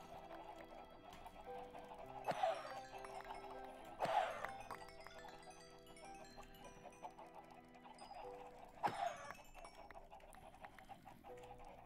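Chickens clucking in a video game, a steady murmur of clucks with three louder squawking bursts over a background music bed, no talk.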